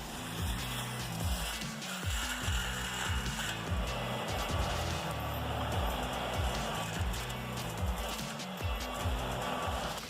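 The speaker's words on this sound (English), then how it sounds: "CMI C175, a heavy-duty road milling machine that redefines road construction and maintenance." A CMI C175 heavy-duty road milling machine with an 86-inch cutting width grinds a road surface, a dense, steady mechanical roar with low rhythmic churning that runs unbroken throughout.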